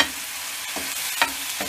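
Whole tomato slices stirred and frying in a pan with hot oil, a soft continuous sizzle broken by a few brief scraping stirs, close and fairly quiet with no talking.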